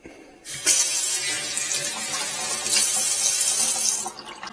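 Steady rush of water from a SEJOV commercial kitchen pull-down faucet with sprayer, starting abruptly after a brief pause, running loud and even, then cutting back near the end.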